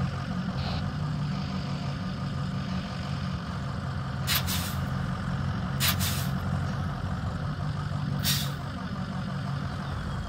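Military truck in Arma 3 rumbling as it moves up, a steady low engine drone with a few sharp hissing air-brake bursts, close and continuous, no talk.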